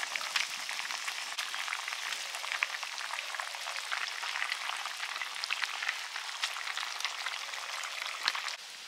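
Fish and potatoes frying in a pan, a faint, even crackling sizzle with fine popping throughout and no strong accents, quiet and close with no voices.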